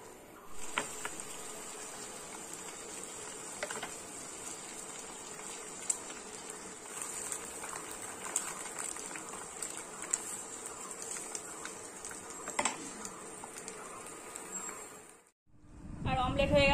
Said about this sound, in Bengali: তো চলো তাড়াতাড়ি অমলেটটা ভেজে নিই।